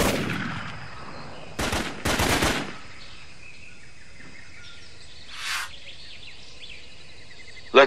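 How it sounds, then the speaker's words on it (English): Short bursts of video-game gunfire from Raven Squad on Xbox 360 crack out in two quick loud volleys near the start, with a fainter burst later, over quiet birdsong-like ambience. "I'm under fire!"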